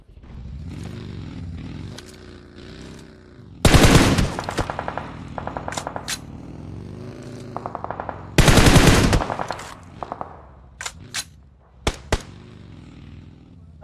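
Gunfire in the battle royale game PUBG Mobile on the Erangel map: two loud sustained automatic bursts and a handful of sharp single shots, heard over a steady low in-game engine-like drone.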